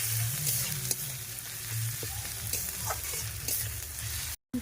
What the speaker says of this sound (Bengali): পেঁয়াজটা ভাজা হয়ে গেছে, এরপর দিয়ে দিচ্ছি রসুন বাটা। রসুন বাটাটা একটু ভেজে নেব